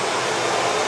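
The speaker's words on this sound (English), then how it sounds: "This is a blow dryer, if you will, to dry your hands." A wall-mounted hand blow dryer in a home bathroom runs with a steady, loud, broadband rushing whoosh that holds evenly throughout, with no voices.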